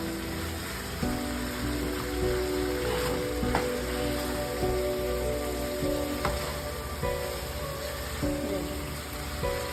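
Chicken pieces stir-fried on low heat for a curry, a steady gentle sizzle like light rain with occasional soft stirring clicks, close and without talk.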